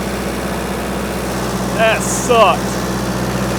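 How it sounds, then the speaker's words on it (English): A tractor bush hogging wet, thorny ground runs with a steady low engine rumble throughout, while someone speaks briefly over it. "Have not had to put this tractor in four-wheel drive since I've been here"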